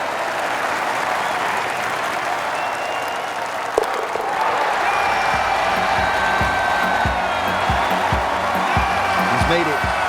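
A golf gallery claps and cheers in a dense, steady wash of applause that carries on throughout, with a few sharper claps and shouts standing out near the end.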